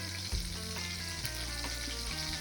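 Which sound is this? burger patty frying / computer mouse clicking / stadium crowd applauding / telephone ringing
burger patty frying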